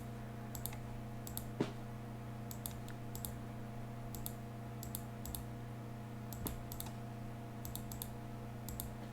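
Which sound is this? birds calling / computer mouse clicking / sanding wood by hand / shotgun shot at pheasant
computer mouse clicking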